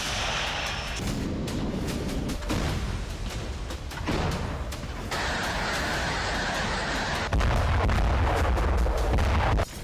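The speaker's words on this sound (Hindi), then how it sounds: "सिर्फ 50 यूक्रेनी सैनिकों को मारने के लिए 20 से ज्यादा रॉकेट हमला" Rocket strikes hit a single target in the Ukraine war, a dense run of heavy booms and blasts with rumbling, chaotic bursts cut abruptly from one to the next, loud and close throughout.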